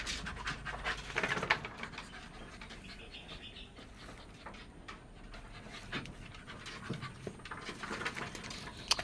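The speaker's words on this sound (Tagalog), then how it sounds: "Ang aso kong to." A dog pants close by in quick rhythmic breaths outdoors in a garden where patola grows, with faint birdsong and light rustling in the background.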